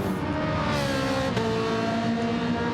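A race car's engine drones loud and steady at high revs as it is overtaken on entry to a corner in the GP Daytona, the pitch shifting slightly as the cars pass, with no voices.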